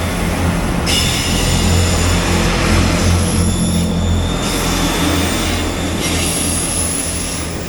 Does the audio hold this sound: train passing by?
yes